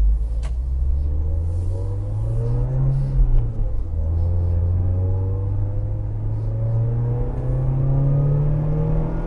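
A Toyota Altezza RS200 with its 3S-GE Beams engine drones steadily inside the cabin, the pitch climbing as it revs, dipping at a shift, then rising again, with no talk over it.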